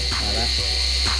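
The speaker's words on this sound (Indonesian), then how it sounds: "maka nanti propelnya akan otomatis menyala" Propellers on a JJRC H68 drone spin up indoors, giving a loud, steady high-pitched whine with a low hum beneath it, close by and continuous for the whole moment.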